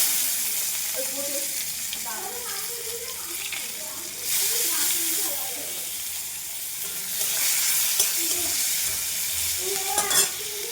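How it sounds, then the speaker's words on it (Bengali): Onions frying in a pan over panch phoron, a steady close sizzle with occasional stirring scrapes that swells louder partway through, with faint voice-like sounds at times. "পেঁয়াজটা ভেজে নিলাম"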